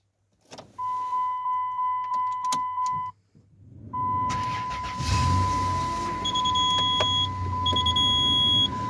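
A 2001 Dodge Caravan with a factory alarm and LPG conversion: rhythmic electronic beeps over a whirring hum, a pause, then the engine catches and settles into a steady idle under chirping tones.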